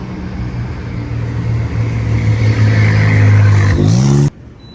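Car with a new wrap pulling up close by, a loud engine rumble that builds and holds, then shifts pitch briefly before cutting off abruptly.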